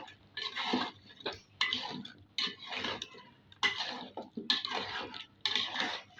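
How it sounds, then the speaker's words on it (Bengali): Beef curry with potatoes gets stirred in a pot, giving repeated scraping and clinking strokes of a utensil against the pot in an uneven rhythm with short pauses, close and moderately quiet. "এবার ভালো করে মিশিয়ে নেব।"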